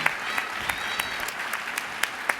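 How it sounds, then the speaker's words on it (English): Faint applause at a college-in-prison education conference plenary, thin scattered claps with a few sharper hand strikes standing out, distant and brief. "So if we can give a round of applause to Dr."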